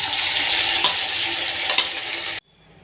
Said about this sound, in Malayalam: അടുത്തതും കൂടി നമുക്ക് എണ്ണയിലിട്ട് കൊടുക്കുക